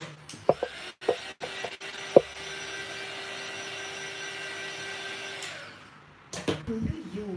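Heat tool blowing a steady, close whirring drone while drying paint on an art journal page, with brief clicks and knocks before it and a short pause near the end before handling noises resume.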